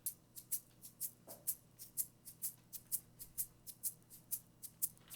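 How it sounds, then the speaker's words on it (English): A shaker is played in a steady, even rhythm of bright, crisp shakes, about three per second, close and fairly quiet, with no other sounds. "Sounds like this, shaker."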